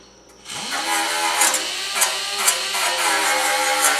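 A power tool whirs steadily as it strips paint down to bare metal on the cab corner of a Ford F150 extended cab, starting abruptly and running loud and continuous with slight surges in pitch.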